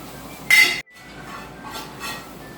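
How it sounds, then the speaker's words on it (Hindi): A cooked cutlet mixture scraped out of a pan into a bowl: one loud metallic clank and scrape, a brief gap, then softer scraping and tapping of a utensil against cookware, with no talking. "हम चूल्हा बंद करेंगे और इसको एक बोल में जो है वो निकाल लेंगे।"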